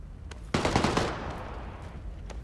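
Suppressed automatic gunfire in PUBG, a short burst of rapid muffled shots that starts abruptly and trails off into a softer tail, with faint clicks before and after.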